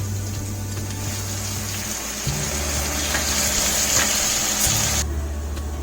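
Dark soy sauce poured into a hot pan of veg Manchurian, giving a continuous loud hiss and sizzle over a low hum, with a sharper bright burst near the end, with no talking.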